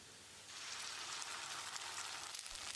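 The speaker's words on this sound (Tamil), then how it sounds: "இதனோட பச்சை வாசனை போகிற அளவுக்கு 1 நிமிஷம் இதை நல்லா ஃப்ரை பண்ணி விட்டுடலாம்" A ground spice paste sizzles in a pan with onions, a soft, steady frying hiss that starts abruptly and continues alone, close but fairly quiet.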